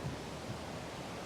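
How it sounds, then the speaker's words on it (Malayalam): A waterfall in a Wayanad forest sends out a steady, dense roar of rushing water that stays even and unbroken throughout the brief moment. "വെള്ളച്ചാട്ടം എങ്ങനെയുണ്ട്"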